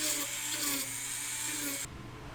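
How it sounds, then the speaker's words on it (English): A Dremel rotary tool fitted with a stone bit whines steadily at high pitch as it grinds the edge of foam on a gun holster, then cuts off abruptly near the end. "And I'm going to take a Dremel."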